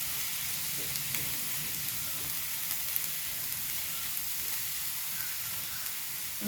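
A quail egg snack mixture hisses and sizzles in a hot pan while being stirred, a steady close frying sound with faint scraping and no talk.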